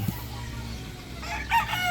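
Chickens on a small farm give a short burst of clucking and crowing against a low steady background, one call rising near the end.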